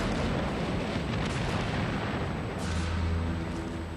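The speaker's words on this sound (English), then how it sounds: "There was a huge explosion." A huge explosion as a shell pierces the deck armour of the battleship Hood and detonates an aft magazine in a World War II naval battle: a loud, sustained roaring rumble with no break, swelling slightly near the end.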